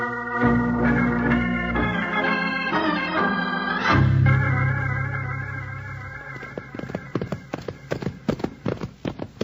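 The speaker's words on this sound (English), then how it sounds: "They must be riding good horses, Jingles." Several horses gallop in fast, rapid hoofbeats that grow more distinct toward the end, beneath swelling orchestral music.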